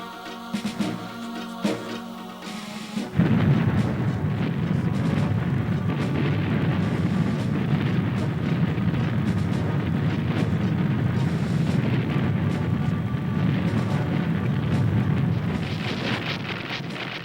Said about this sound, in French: L'artillerie pilonna la ville et les hauteurs du mont.